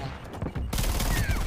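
Video game gunfire, a dense burst of rapid shots with sharp cracks crowded together, loud and close, a mix of voice and game sound underneath.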